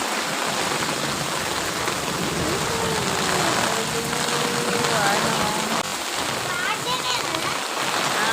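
Heavy rain pours down steadily and loudly outdoors, a dense unbroken hiss of drops on surfaces and pooled water, with a voice talking faintly underneath.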